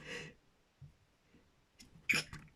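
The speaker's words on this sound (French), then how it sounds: "j'ai éternué" A woman lets out a sharp sneeze near the end, preceded by an intake of breath and soft breathing, close and alone.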